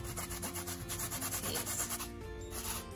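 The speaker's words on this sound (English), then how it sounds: "I like to just grate some onion in" Onion being grated for Jamaican-style coleslaw, a rapid, rhythmic rasping scrape repeating in quick strokes, close and fairly quiet, with faint background music underneath.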